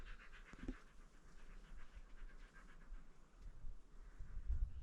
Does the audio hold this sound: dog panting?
yes